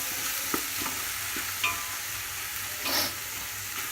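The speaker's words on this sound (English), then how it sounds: "and I'm going to low flame it. And saute it for some time." Vegetables for pulav sauté over a low flame, with a steady soft sizzle under scattered stirring scrapes and clicks of a spoon against the pan, close and fairly quiet.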